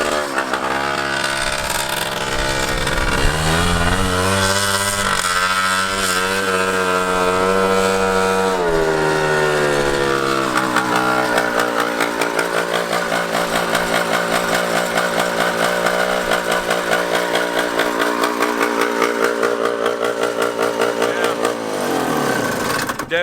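A 1979 FL250 Odyssey two-stroke go-kart engine runs loud and close with a buzzy, rasping tone. It holds a steady idle, then climbs into higher, wavering revs as the carburetor mixture is leaned out during tuning.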